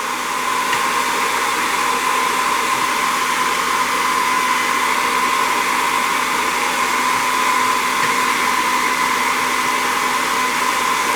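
A heat gun blows hot air steadily onto a screen protector, lifting its clear plastic sheet: a loud, continuous whooshing hiss with a faint whine, unbroken for the whole stretch and close up, no voices.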